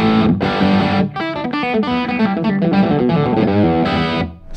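Electric guitar driven through a JOYO King of Kings overdrive pedal with both channels stacked, giving a thick, saturated distortion; fast, loud riffing and ringing chords up close, with no voice.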